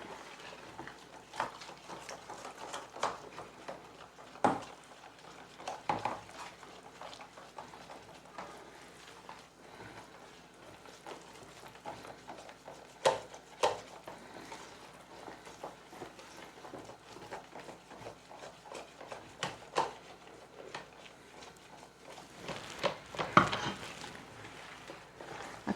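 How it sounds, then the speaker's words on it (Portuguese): Flour stirred into a porridge for homemade bread dough, with quiet scraping and intermittent knocks of a utensil against the bowl at an unhurried pace and no talking. "Fazendo aqui primeiro um mingauzinho. Faz um mingauzinho mexendo."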